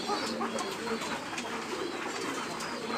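Pigeons let loose in a resting area coo steadily and close by, a continuous soft murmur of several birds with an occasional voice mixed in.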